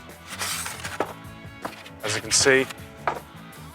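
Cardboard rustles, thumps and scrapes while a Kamado Joe Big Joe cast iron reversible griddle is unboxed, with irregular handling knocks and a crinkly burst, under someone talking.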